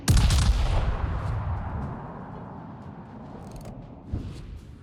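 Battleship main guns fire in a naval combat video game, a single heavy boom at the start that rolls into a long, fading rumble, followed by a softer thump near the end.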